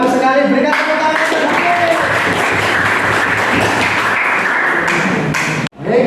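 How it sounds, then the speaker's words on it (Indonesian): A classroom group claps in a sustained burst of applause for a student at a mechanical engineering teaching session, dense and steady for several seconds before cutting off sharply. "Berikan tepuk tangan."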